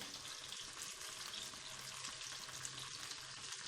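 Ginger garlic paste fries in a hot pan for a chicken jalfrezi, giving a steady, close sizzle with soft crackle and occasional stirring scrapes throughout, no voices.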